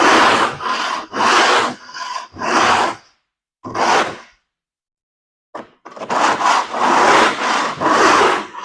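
Hand scraper dragged across a concrete flake floor with light pressure, a series of loud, close rasping strokes in bursts with brief pauses between them, no talking.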